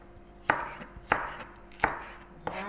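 Green beans are chopped with a knife on a cutting board in a home kitchen, four crisp, evenly spaced thuds that are close and clear against a quiet background.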